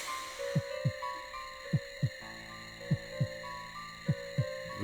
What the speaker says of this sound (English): I'm almost like experiencing the heavy heartbeat in real life